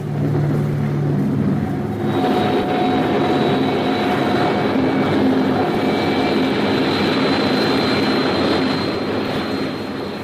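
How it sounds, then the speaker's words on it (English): Enemy jet bomber carrying an H-bomb, a radio drama sound effect: a steady, loud jet roar drones continuously throughout, with a high whine joining partway in. "This is an enemy bomber."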